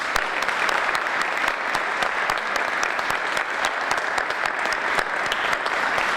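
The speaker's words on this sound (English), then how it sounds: "Can we get one more round of applause?" An audience at a volunteer fire department retirement ceremony in Jacksonville claps in a steady, dense round of applause that keeps an even level throughout.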